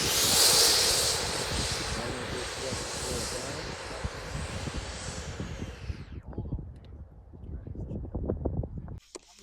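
Freewing 80mm MiG-29 RC jet with twin 12-blade electric ducted fans roars past with a loud whooshing hiss that fades after about six seconds, leaving wind buffeting and outdoor noise.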